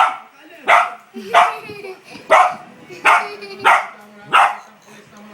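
Small puppy yapping in six sharp, evenly spaced barks, close and loud, with a faint whimpering tone between them.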